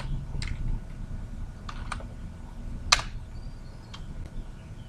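Code being typed on a computer keyboard during a walkthrough of opening an SQL database connection in Visual Studio 2017, with a few scattered, fairly soft key clicks and one sharper tap over quiet room noise.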